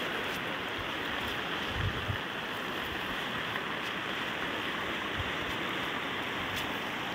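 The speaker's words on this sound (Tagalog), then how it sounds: "Napakalakas po ng ulan po dito." Heavy rain beside a river in flood, a constant broadband hiss of downpour and rushing water that stays steady and fairly close throughout with no voices.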